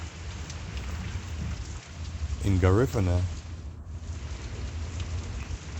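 Heavy rain pours steadily on a windy day, a dense constant hiss throughout, with a voice speaking briefly over it midway.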